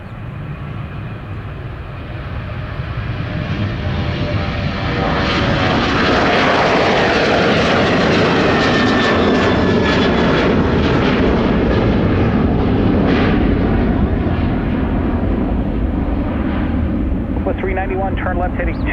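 Airliner jet engines at Minneapolis–St. Paul airport swell into a loud, sustained roar that builds over the first few seconds and holds steady, with a high whine riding on top, like a departure takeoff run heard from nearby.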